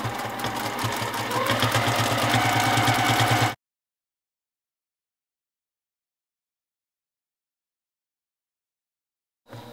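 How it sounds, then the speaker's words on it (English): A sewing machine stitches free-motion quilting lines in a fast, even mechanical whir for about three and a half seconds, then cuts off to silence before a brief restart at the very end. "I'm going to rotate it for my organic line and stitch."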